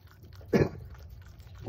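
An animal biting into a mouthful of peanut butter, a single short, close, wet crunching bite standing out from a quiet background.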